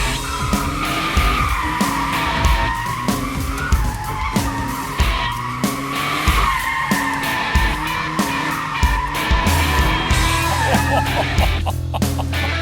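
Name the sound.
sports car skidding with traction off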